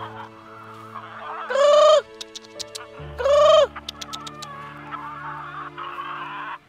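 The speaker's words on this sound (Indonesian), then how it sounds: "Ada suara kagak ada ayamnya." Loud, near bird calls from a chicken, two drawn-out squawking bursts with short chirps between and after them, heard in a setting covered with chicken droppings while a steady low hum continues underneath.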